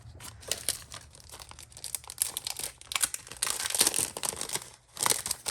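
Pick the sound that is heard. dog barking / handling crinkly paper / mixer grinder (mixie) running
handling crinkly paper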